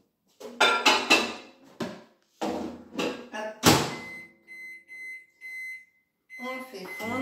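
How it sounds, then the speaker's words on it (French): A microwave oven melting butter for a gluten-free banana cake: a door thuds shut amid clatter, then a few short, evenly spaced electronic beeps ring out alone, with a voice speaking before and after. "on va faire fondre notre beurre au micro-ondes"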